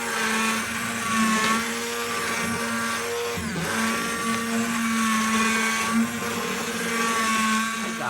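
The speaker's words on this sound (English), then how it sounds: "use the immersion blender and make a base gravy out of it" An immersion blender whirs steadily and loudly, puréeing a brisket gravy base of braised vegetables and juices, its motor hum wavering slightly as it works through the pot, with no voices.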